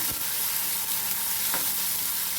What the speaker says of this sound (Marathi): दालचिनीने खूप छान स्वाद येतो आणि हे छान हलून घ्यायचे बघा